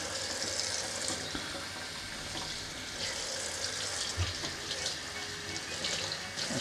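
Clean tap water runs steadily over a pair of Philips SHP9500 headphones, a continuous close hiss and splash from the faucet with small fluctuations, and nobody speaking.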